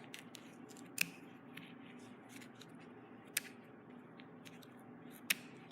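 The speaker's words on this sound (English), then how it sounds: "I'm just going to take a pair of scissors and slice on the back of my loom" Three sharp, well-spaced scissor snips cut through the warp strings on the back of a cardboard loom, close and distinct over a low background hiss.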